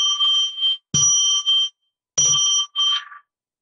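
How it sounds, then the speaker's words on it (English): A small bell struck three times, each strike bright and ringing with a clear metallic tone and short decay, the third followed closely by a fainter ring; nothing else is heard between strikes. "So let's ring a bell 3 times to get into sacred space."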